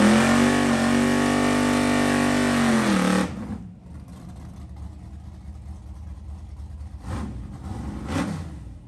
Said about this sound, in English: Here's his Blue Thunder Camaro drag car.